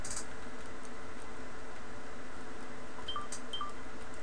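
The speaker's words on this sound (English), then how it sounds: "If you heard that, that was my phone." A mobile phone gives a low battery alert: two short, faint beeps in quick succession near the end, almost buried under steady background noise.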